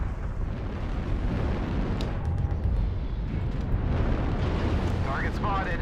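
Artillery strike explosions in MechWarrior Online rumble as a loud, continuous roar of blasts and debris, with a few sharp pops and faint electronic tones rising near the end.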